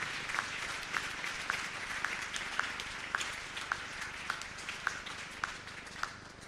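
A church congregation at a French-language worship service applauds steadily, with a dense wash of clapping and sharp, regular accents roughly every half second, like rhythmic clapping in time. There is no clear cheering and no talk.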